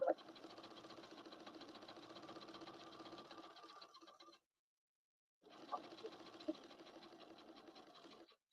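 A sewing machine stitches a second row on Ginger jeans, running in a steady, close mechanical whir for about four seconds, stopping briefly, then running again in another even burst.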